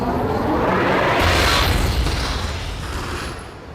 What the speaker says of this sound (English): Now you gotta watch out for the secondary explosion.